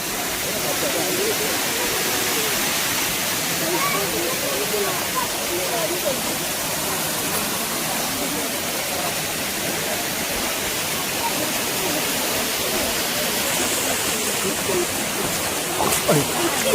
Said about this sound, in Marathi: छोटासा ओढा आहे